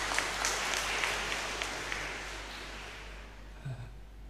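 A church congregation at Sunday Mass claps together in sustained, even applause that gradually tapers off and fades toward the end.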